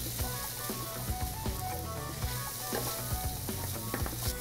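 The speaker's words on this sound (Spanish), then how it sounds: "Por acá mira cómo nuestra cebollita cambiando de color." Chopped onion fries in a pan for bacon pasta, a dense close sizzle broken by repeated scraping and stirring knocks against the pan bottom.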